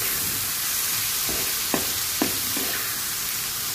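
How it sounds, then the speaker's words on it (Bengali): Greens sizzle in a pan with plenty of garlic and a little onion, a steady close frying hiss broken by a few brief scraping stir clicks. "এখন শাকটা দিয়ে দিব, দিয়ে ভালো করে ভাজা ভাজা করে নামিয়ে নিব"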